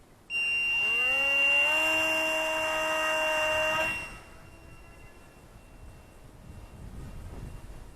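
A MinimumRC Micro Spitfire, a tiny RC warbird of about 33 grams, gives a loud high whine as its small electric motor spools up and holds steady for a few seconds, then fades to faint background noise.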